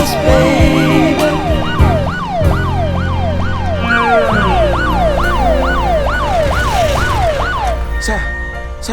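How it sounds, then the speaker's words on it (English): A loud, close ambulance siren wails in rapid, repeated rising-and-falling sweeps during a movie chase scene, with engine noise and scattered impacts underneath and brief voices. "follow the ambulance."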